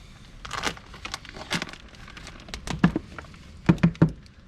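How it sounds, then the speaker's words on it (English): A plastic bag of soil is cut open for a backyard garden planter, giving close crinkling and tearing rustles in several short bursts that grow sharper toward the end. "Cut open the bag here."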